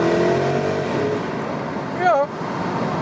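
A 2021 Porsche Cayenne GTS Coupe with sports exhaust in Sports Plus mode, its engine droning steadily inside a tunnel with the window open, fairly close, with a brief rising whine near the end.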